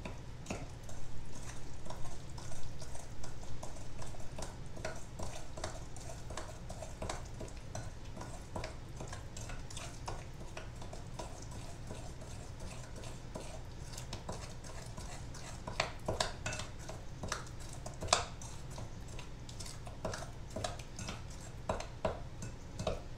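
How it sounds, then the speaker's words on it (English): Melted butter and cinnamon are stirred together into a filling in a bowl with a spoon, making soft repeated scraping and swishing strokes, quiet and close, with no one talking. "And I'm going to mix this all up"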